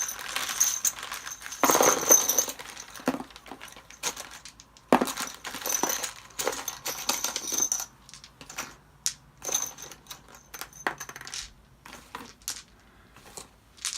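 Plastic chips and dice from an Axis & Allies board game are handled and dropped, giving a steady run of bright clicks, clinks and rattles at close range, with no voices.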